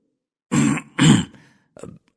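A person clears their throat close up: two firm rasping bursts, then a shorter, softer one after a brief pause.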